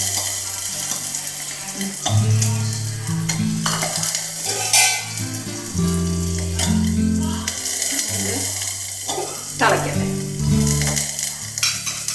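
Fish curry with vellori bubbles and sizzles in a pan, a close, loud frying hiss with stirring clinks and scrapes while a steady low hum runs underneath.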